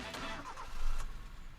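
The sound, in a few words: car engine starting in the anime Initial D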